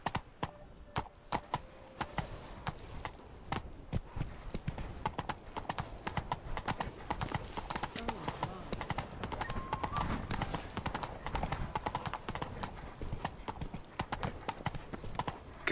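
Roach the horse in The Witcher 3: Wild Hunt gallops hard, a dense, driving clatter of hooves close by that carries on without pause, with rustling game ambience mixed in.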